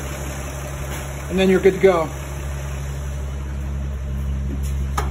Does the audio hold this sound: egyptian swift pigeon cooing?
no